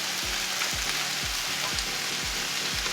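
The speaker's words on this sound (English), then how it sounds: "So you can hear that it's like all cooking kind of on top of each other" Chicken, tomatoes and spinach sizzle steadily in a pan, and soft rhythmic low thumps repeat about every half second, like food being stirred. Nobody speaks.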